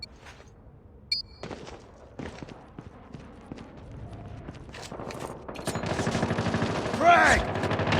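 Shotgun blasts go off in a Call of Duty team deathmatch, sharp single shots spaced through the clip, building into a denser burst of gunfire and game noise near the end, with faint voices underneath.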